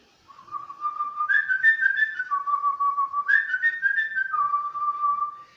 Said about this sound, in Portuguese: Esse som é o toque de avançar, cavalaria e degolar.